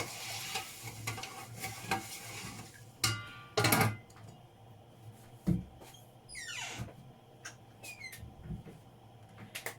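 Food cooking in a pan in a home kitchen, giving a steady sizzling hiss with stirring scrapes and occasional clinks and squeaks, close by with no talking.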